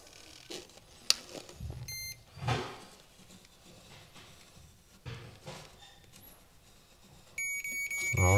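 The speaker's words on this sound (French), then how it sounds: "je vais passer un coup de détecteur" A handheld wall detector sweeps a wall for hidden cables before a groove is cut to add outlets, giving short electronic beeps: one brief burst early on and a more sustained beeping near the end, over quiet handling noises.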